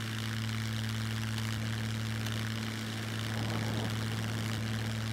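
A steady propeller aircraft engine in the video game SCUM drones without a break, with a constant low hum and a rushing wind noise over it, and no voices.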